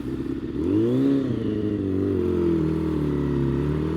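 Warmed-up sportbike engine running close by, a throaty idle that swells into a brief rev and settles back to a steady mid-pitched drone.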